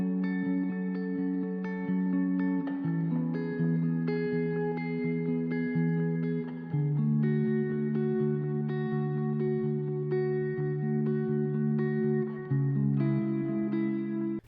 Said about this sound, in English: To get this guitar tone, I'm using the Corey Wong amp with the delay and reverb, adding some Logic stock compression